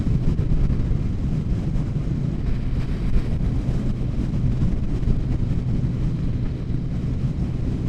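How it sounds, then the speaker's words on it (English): Strong wind on an exposed spot on the Isle of Arran, met on a naked motorcycle, buffets continuously, a dense roaring rumble with no pauses, loud and close throughout. "This is proper windy up here."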